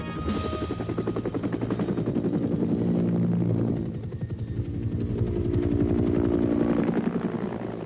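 Bell Huey helicopters from the Vietnam War era, a steady rhythmic rotor thump and engine drone that swells, dips briefly, then rises again as the aircraft pass nearby.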